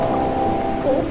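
Rain sound effect, a continuous even hiss of falling rain with a faint tonal hum beneath, steady and fairly loud throughout.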